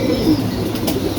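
Pigeons being fed make a brief flutter of flapping wings, with soft cooing close by.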